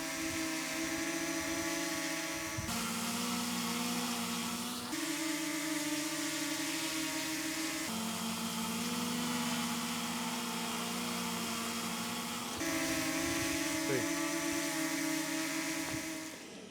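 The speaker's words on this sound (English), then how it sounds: "Higher pitch, and I do think it is louder, the Mini 2, than the Mini 3." A DJI Mini 2 drone hovers nearby, its propellers giving a loud, higher-pitched whine with steady tonal bands, the whirr briefly dipping and resuming several times.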